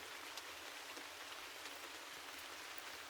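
Gentle rain falls in a soft, even patter, quiet and continuous with occasional distinct droplets, heard alone without voices.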